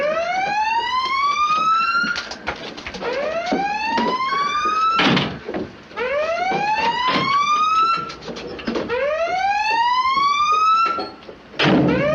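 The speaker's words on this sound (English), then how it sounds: "Sound collision alarm." A submarine's collision alarm sounds during a crash dive in a WW2 naval drama: four loud rising electronic whoops in steady succession, each sliding upward and cut off sharply, with clanks between them.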